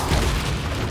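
A deep, loud burst of fire from the Incendio spell in Hogwarts Legacy, a short rumbling blast that fills the moment.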